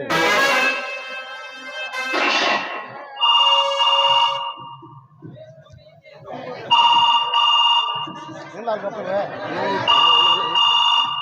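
An electronic ringtone melody sounds in repeated bursts, loud and close, with voices speaking between the rings.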